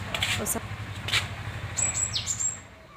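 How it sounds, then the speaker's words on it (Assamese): A few thin, high bird chirps and whistled calls ring out over a low, steady hum, with a soft voice in the background. "চৰাই চিৰিকটিৰ মাতেৰে ৰাতিপুৱাৰ পৰিৱেশটো মোৰ খুবেই ভাল লাগে।"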